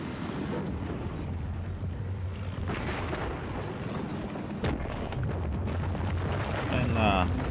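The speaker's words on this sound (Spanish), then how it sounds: "Ya me está disparando el helicóptero." Attack helicopter in Battlefield 4 fires at the player: a steady low rotor roar with scattered bursts and impacts throughout, and someone talks over it.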